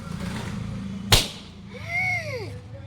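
A balloon pops once in a family game, a sharp single burst over a steady low background hum, followed by a voice rising in pitch.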